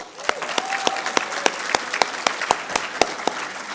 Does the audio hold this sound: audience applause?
yes